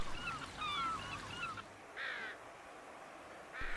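Several harsh, squawking gull calls come in short bursts, moderately distant, over a soft outdoor background.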